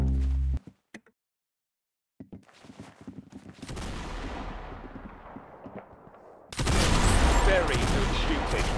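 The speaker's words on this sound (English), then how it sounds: "Very good shooting." Gunfire from the online shooter game Roblox Arsenal: a loud burst, a silent gap, then a dense run of rapid shots and booms that grows busier and louder toward the end.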